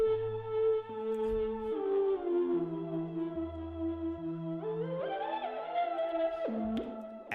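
A washy, heavily reverberant synth sample at 80% wet reverb, with sustained tones and long echoing tails blending together, played alone.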